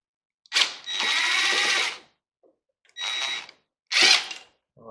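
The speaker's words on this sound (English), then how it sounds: "It's just going to be a case of trying to unscrew it." Power driver unscrewing a screw from an old FPE breaker during a teardown, a close, loud whirring burst followed by two shorter whirs separated by silence, no talk.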